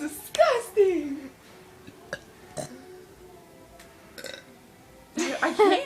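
Several loud, croaking burps come in bursts, one near the start, a couple of short ones in the middle and a long rough one at the end, with brief quiet between.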